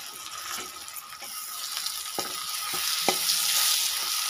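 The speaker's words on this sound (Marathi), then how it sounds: "थोडंसं तेलामध्ये परतून घेत आहे बघा" Washed cauliflower florets frying in a little oil for a rassa bhaji, a steady close sizzle with occasional stirring clinks, no talk.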